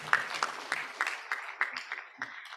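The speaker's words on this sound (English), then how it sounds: "Another round of applause, please, for him." Audience applause at an annual accountants' seminar, a moderate burst of clapping with sharp individual claps over a wash of hands, steady for a few seconds in a hall.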